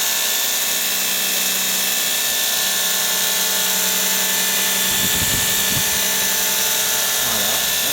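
A polishing machine works raw stainless steel with a steady, loud high-pitched whine and grinding hiss, shifting in tone as the machine's back is tilted, with someone speaking over it.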